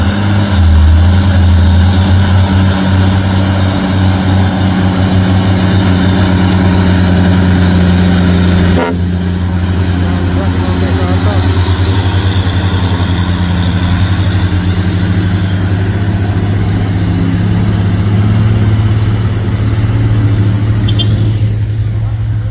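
A tank truck and a Dino box truck labour up the Bukit Kodok hill, engines droning loudly and steadily close by, with a voice talking over the roar.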